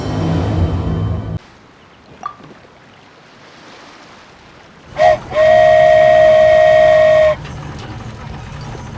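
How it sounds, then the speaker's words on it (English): Toy train steam whistle in Genshin Impact sounding as the train departs: a short toot followed by a loud, steady whistle held for about two seconds, set against low game ambience. "So this is what it feels like to ride a toy train."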